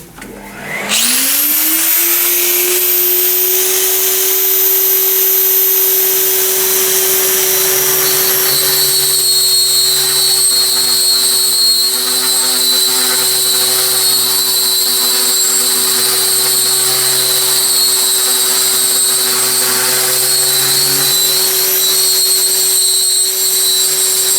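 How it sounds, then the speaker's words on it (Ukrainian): A vintage vacuum cleaner, used for dust extraction while drilling porcelain tile, starts up and settles into a loud, steady whine with a high-pitched hum, running continuously up close. "Раритетний пилосос."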